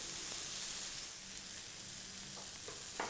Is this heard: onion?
yes